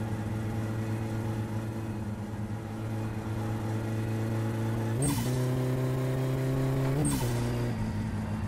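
Engine of a boxy Gol with a turbocharged AP 1.6 in My Summer Car, droning steadily at idle-to-mid revs, then rising sharply in two quick rev blips with hissing bursts, loud and close with no talking.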